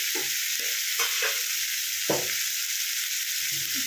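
Pumpkin curry being stirred in a pan, a spoon scraping through the vegetables in a few separate strokes over a steady background hiss, with no talking.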